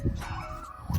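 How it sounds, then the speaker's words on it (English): A dog barks and yips in the background of an overgrown yard during a fall cleanup, with short bursts at the start and again near the end and a softer whimpering stretch between them. "sorry about the dog barking in the background"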